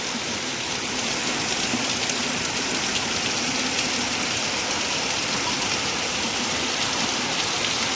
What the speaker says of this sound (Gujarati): ધબધબાટી બોલાવે વરસાદ